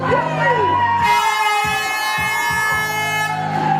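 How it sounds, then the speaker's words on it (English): A loud, sustained air horn blares for several seconds over a noisy, cheering crowd at a wrestling arena, with a voice audible beneath it. "And his air horn as well."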